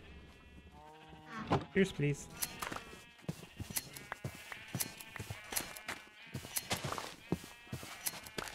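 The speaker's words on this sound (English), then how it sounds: "That should be enough brown sheep." Brown sheep in the Minecraft video game bleat in a few short, nasal calls amid clicky game sounds, while a player talks quietly over them.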